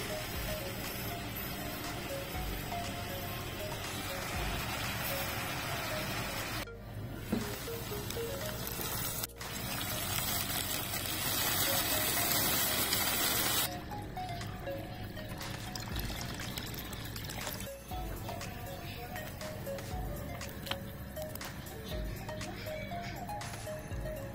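Water pours into a pot of Filipino chicken tinola soup, a long, continuous splashing pour heard alone at a low, even level with a brief break partway through.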